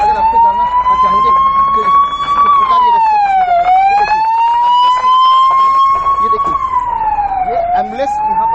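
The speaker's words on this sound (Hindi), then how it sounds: "एम्बुलेंस यहाँ पर आ चुकी है।" An ambulance siren wails loud and close at a crowded scene in India with police present, a rising and falling tone repeating in long sweeps, while someone talks over it in Hindi.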